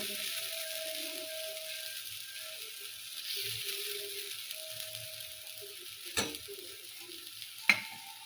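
Jowar flour uttapam batter hisses steadily on a hot griddle, a soft continuous sizzle with a couple of sharp clinks near the end and no voices.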